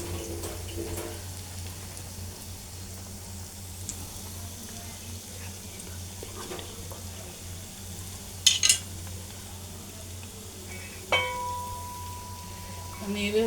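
Potato rolls frying slowly in a pan, a quiet, steady sizzle close by with occasional clinks of utensils and a few brief sharp taps.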